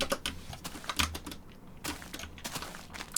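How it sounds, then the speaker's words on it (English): Rapid, close computer keyboard typing with scattered mouse clicks while playing Minecraft Classic, a busy clatter of keystrokes with no talking. "somebody in the comments said that my keyboard and my mouse is really loud"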